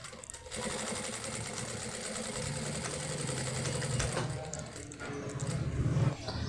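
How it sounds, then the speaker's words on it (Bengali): A sewing machine stitches the torn corner of a trouser pocket, running in a steady close whir with slight changes in speed and a short pause near the end. "এই যে দেখেন আমি সিলাইটা দিয়ে নিলাম।"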